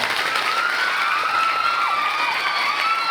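A crowd at a motivational talk at a girls' junior college claps and cheers in a continuous, dense wash of applause, with high shouts and whistles rising above it.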